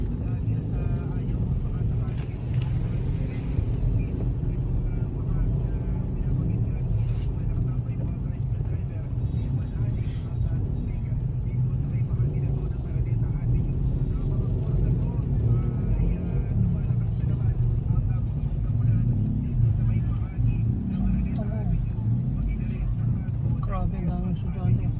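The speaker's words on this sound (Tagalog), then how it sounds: "Traffic." Road traffic in Antipolo along a street lined with students: a continuous rumble of passing cars and engines, with people talking over it throughout.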